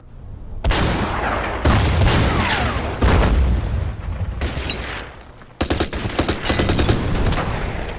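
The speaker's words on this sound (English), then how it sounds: "Hit it with the artillery." Artillery fire in the strategy game Order of Battle: Winter War, a series of heavy booms and rolling bursts, about six salvos in rapid succession, loud and close with no talk.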